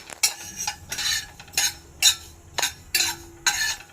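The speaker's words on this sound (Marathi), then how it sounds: "या धण्या जिऱ्याबरोबर हे मेथीचे दाणे आता परतून घेऊया" Fenugreek seeds roast with coriander and cumin in a hot pan with the gas off. A spoon scrapes through them in about eight regular strokes, with a light rustle of seeds between them.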